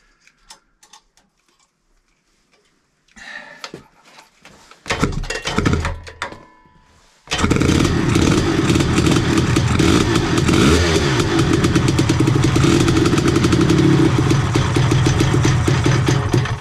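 A tuned Shedtune Super Tourer TS1 engine mounted in an engine cradle turns over with sputtering, clattering attempts, then fires and runs loud and steady at close range.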